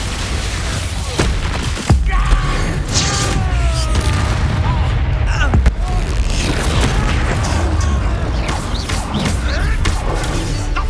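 Spell blasts and impacts from Hogwarts Legacy combat on PS5: several loud booming hits and crashes, sharpest near two and six seconds, over a dense, continuous layer of battle noise and game music, with spoken voices mixed in.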